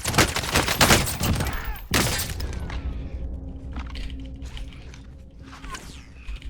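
Sniper gunfire in Call of Duty Warzone, loud sharp shots near the start and again around two seconds, followed by a quieter stretch of game ambience with faint mechanical creaks and scattered distant sounds.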